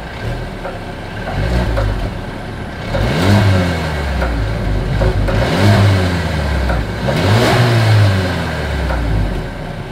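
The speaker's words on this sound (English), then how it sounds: "As always, here is that exhaust clip." Exhaust note of a 2020 Mercedes-Benz CLA 250 revving while parked, three loud throttle blips rising and falling over a steady idle, recorded close behind the car.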